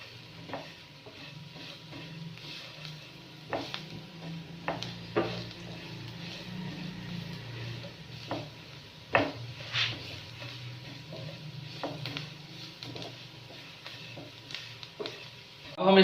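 Coriander powder, turmeric and salt frying in a pan for samosa filling, a steady low sizzle with repeated scraping stir strokes and occasional utensil clinks.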